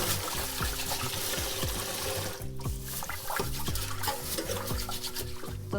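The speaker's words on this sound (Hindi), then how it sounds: "वॉश भी हमने रगड़ के करना है और ये देखिएगा कितना काला पानी निकलता है इसके बाद" Dal lentils being washed by rubbing them by hand in water, a steady close sloshing and gritty swishing with continuous water noise throughout.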